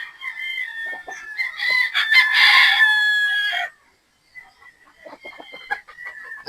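A straight comb Sweater gamefowl stag crows loudly close by in one long call, followed by quieter clucks and chatter from nearby fowl.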